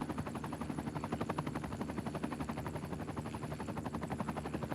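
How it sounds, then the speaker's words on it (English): A rescue helicopter in the city-building game Cities: Skylines II beats its rotor steadily in rapid regular thumps, a continuous chopping drone at moderate distance while it dumps water on a fire. "Oh, look at the chopper's already dumping."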